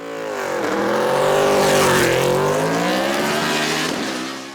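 A BMW M3 E92 race car climbs a hill-climb course in a production-series event, its engine roaring loudly and close as it passes, pitch rising and falling with gear changes while it accelerates by.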